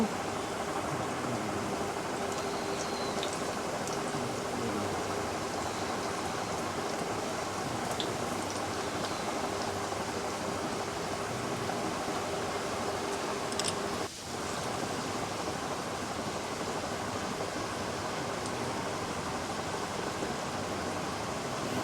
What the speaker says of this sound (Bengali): পেঁয়াজিগুলো খুব ভালোভাবে ভাজা হয়ে গেছে